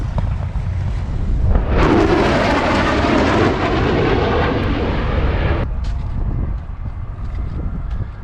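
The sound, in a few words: F/A-18 Super Hornet jet coming in for landing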